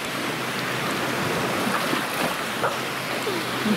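Waves splash steadily at the shore in a continuous, close wash of water with small irregular splashes, recorded while someone swims nearby.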